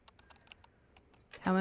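Soft, quick keyboard clicks typing for about a second in the video game Lost Judgment, then a loud voice cuts in at the end.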